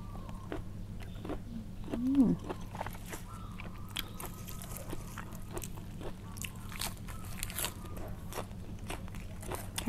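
Crunchy pork crackling is bitten and chewed close up in a quiet room, with a string of short crisp crunches spread across the clip over a low background hum.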